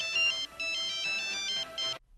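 A mobile phone ringtone plays a bright, repeating electronic melody in short phrases, loud and alone, cutting off abruptly after about two seconds.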